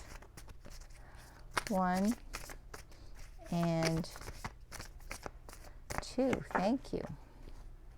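Tarot cards shuffled by hand, soft papery riffles and slides scattered through the clip, heard under someone speaking briefly.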